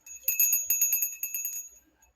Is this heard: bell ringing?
yes